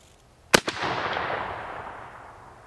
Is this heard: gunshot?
yes